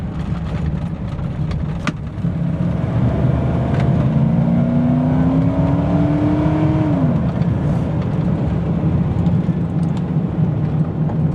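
A green pickup truck on 35x12.5 R15 tires accelerates hard on gravel, its engine climbing in a steady rising drone while the tires spin slightly, a continuous loud roar heard from inside the cab with no talk.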